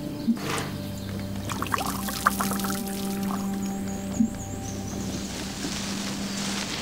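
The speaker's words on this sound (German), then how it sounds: "So, dann gebe noch Wasser hinzu, ne?" Water poured in the Nearwood video game, a steady trickling pour running continuously under a sustained musical drone with a few soft clicks.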